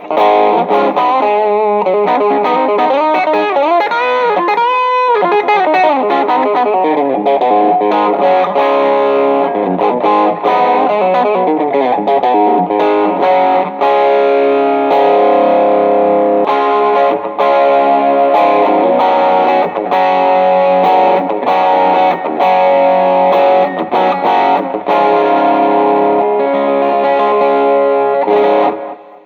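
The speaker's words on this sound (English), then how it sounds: "Here's some drive." An electric guitar with overdrive plays gritty, sustained chords and bends, loud and continuous throughout.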